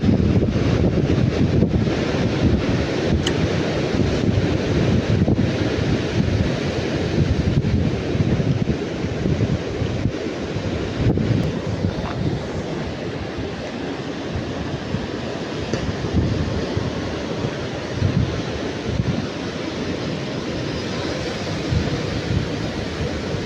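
Strong wind at sea with big waves, a loud roaring rush of wind buffeting the microphone over steady surf, continuous throughout with no talk.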